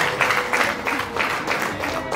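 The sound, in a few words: wedding guests applauding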